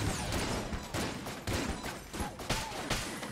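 Gunfire from a weapon in the video game Enter the Gungeon rattles in rapid, dense bursts of shots, loud and continuous with rhythmic pulses, with no clear talking over it.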